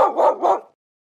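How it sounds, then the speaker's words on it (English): A dog gives two or three quick, loud barks in a single close burst, then goes silent. "Dog."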